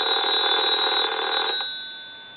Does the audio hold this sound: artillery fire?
no